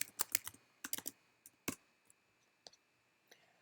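Quick bursts of typing on a computer keyboard into the R console: close, crisp key clicks clustered in short runs, then a few slower isolated taps before falling quiet, with no voices.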